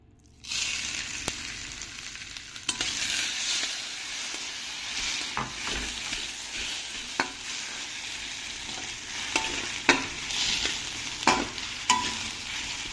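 Soaked halim seeds and coconut being stir-fried in a kadai give a bright, steady sizzling hiss close by, with frequent sharp scraping and tapping of a spatula against the pan.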